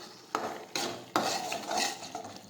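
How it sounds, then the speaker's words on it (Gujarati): Spices being stirred and mixed in a cooking pan, Kashmiri chili powder and cumin among them, for a green urad bean curry; a few distinct scraping strokes of a spoon against the pan, close and clear, with no talk. "હવે આ રીતે મિક્સ કરી દઈશું."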